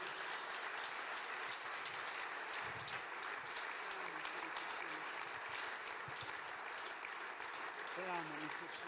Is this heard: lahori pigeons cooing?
no